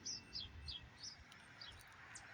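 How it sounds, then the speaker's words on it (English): Faint bird chirps and tweets repeat at intervals over a low background rumble outdoors. "Even the birds are speaking now."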